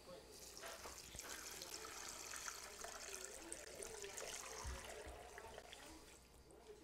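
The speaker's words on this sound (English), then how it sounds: "next what we're gonna do is just simply add some water" Water poured into a cooking pot holding bones for homemade collagen broth, a faint steady trickling and splashing that runs for several seconds and tapers off near the end.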